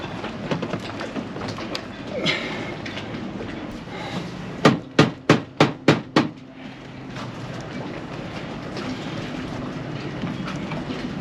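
Six quick, evenly spaced metallic hammer strikes ring out during a washing machine replacement, over a steady mechanical rumble, with faint background noise before and after.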